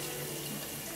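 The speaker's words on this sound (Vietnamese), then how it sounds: "Còn đây là cái chỗ rửa ly." Water runs steadily from a tap into a glass-washing sink in a book cafe, a continuous close splashing flow that holds the same level for the whole second with no voices.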